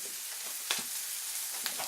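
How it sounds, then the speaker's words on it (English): Steady hissing crackle of bacon frying in a pan, with faint pops and a soft clink partway through. "sizzle that long piece of bacon"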